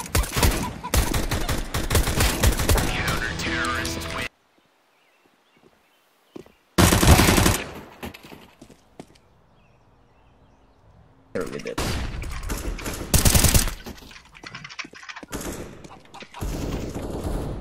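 AK rifle fire in a first-person shooter video game: dense automatic bursts at the start and end, with a loud sharp burst near seven seconds and quieter gaps between.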